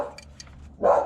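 A young dog gives one short, sharp bark close by near the end, after a few faint yips and small noises, with no talk.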